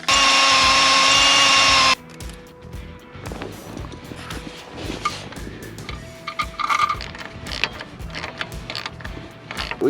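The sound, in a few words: power drill drilling hole in school bus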